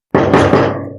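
Several sharp knocks on a door in a staged audio drama, close and loud, a quick cluster of raps with no voices over them.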